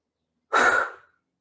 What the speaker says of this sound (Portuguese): Você faz o sopro quente